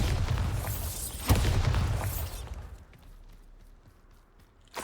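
A Bombarda spell explosion in Hogwarts Legacy, one deep booming blast that swells with rumbling debris, strikes again in a sharper burst, then fades to a quiet tail.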